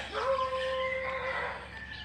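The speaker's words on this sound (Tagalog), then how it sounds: "May uh, aso." A dog howls in a long, wavering tone, steady and fairly close, with no other sounds around it.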